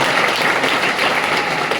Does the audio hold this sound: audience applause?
yes